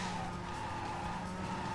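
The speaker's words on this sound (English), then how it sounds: "And I'm swerving everywhere, and I crashed that car." Tire skidding and engine drone as a car swerves in the driving video game Driver 3, a steady sustained screech at moderate level across the whole moment, with no talk.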